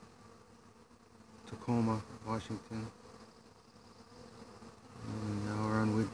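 Honey bees buzz around a hive entrance made from a five-frame nuc, a close droning hum that swells as bees pass near, with someone speaking briefly.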